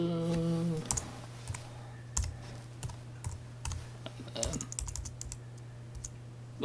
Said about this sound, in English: Maybe if we just type in